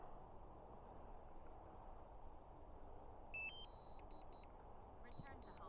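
Electronic beeps from a drone returning home near an old church, a few short tonal bleeps around the middle and end, heard over steady wind and outdoor rumble.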